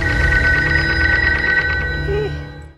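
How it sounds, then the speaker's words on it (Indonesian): Telephone ringing in the film Payback, a phone line rigged as the trigger for a bomb hidden under a bed; a loud, steady electronic ring sounds nearby, continuous with a low hum, then cuts off abruptly at the end. "Mereka terlihat agak bingung mengapa Porter belum juga mengangkat teleponnya"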